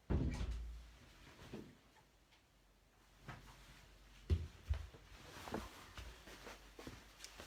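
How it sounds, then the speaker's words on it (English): Indoors on a quiet evening, soft footsteps and a few faint, muffled knocks and thuds come from a door being closed, with long near-silent gaps between them. "I'm just going to go and close the door where a light is on and it's annoying me."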